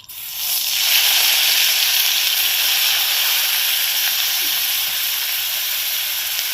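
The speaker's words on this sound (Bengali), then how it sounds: "এই তেলের মধ্যে দিয়ে দিচ্ছি যে পেঁয়াজ আদা রসুন সব বেটে রেখেছিলাম ওই বাটাটা" Onion, ginger and garlic paste hits hot oil with a loud, steady sizzle that swells within the first second and holds as a dense, even hiss to the end, with no one talking.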